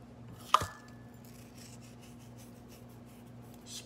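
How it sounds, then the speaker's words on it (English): Hands rub salt over raw pork spare ribs, beginning with one sharp tap and then a soft, faint scraping and rubbing that goes on quietly with no talk. "Spread all over the salt."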